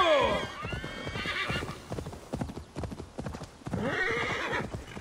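Horse galloping with hoofbeats and repeated neighs in the Assassin's Creed Valhalla video game, loud and close throughout the short stretch, with rapid clip-clop rhythm and whinnies opening and closing it.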